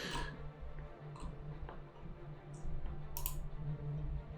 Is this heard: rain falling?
no